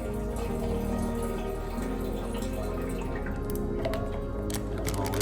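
Liquid pours into a Spike CF 15 fermenter in a steady, continuous stream with faint dripping and splashing, close by and with no voices.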